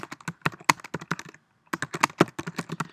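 Fast clicking keystrokes on a computer keyboard as a short post title is typed, two quick bursts of taps separated by a brief pause, close and clear with no talk.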